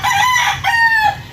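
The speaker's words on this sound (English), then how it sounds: "Do not put your hand on that rooster, I told Kiko." A rooster crows in a close, loud, drawn-out call with a short break midway.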